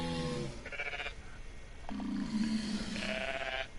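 Goats in a video game bleat in a few drawn-out, wavering calls, starting loud and near at the beginning and returning later, set over a steady ambient bed with no talking.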